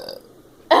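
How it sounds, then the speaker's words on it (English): A short, loud burp bursts out at the end, close to the microphone, after a quieter murmur, during a burping contest. "I burped loudest and okay, longest."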